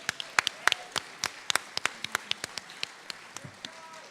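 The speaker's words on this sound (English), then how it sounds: "Give her a big round of applause, Rachel." An audience applauds for Rachel Masterson at a local live event, with sparse, distinct hand claps spread across the moment and a few faint voices beneath.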